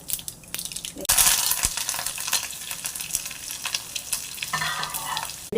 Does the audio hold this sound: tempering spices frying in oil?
yes